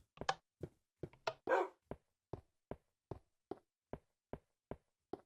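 A dog in the Minecraft video game barks in a regular series of short, sharp yaps, about a dozen evenly spaced, close and clear with no talking.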